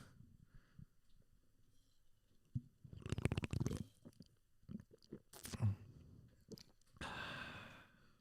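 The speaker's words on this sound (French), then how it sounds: "je vais faire un petit ASMR de gorgée de bière" Close, intimate slurps and gulps of beer being sipped, with wet mouth sounds, swallows and an exhaled sigh between sips, no speech.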